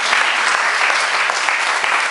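A church congregation applauds steadily, dense continuous clapping filling the whole moment at close range with no pauses.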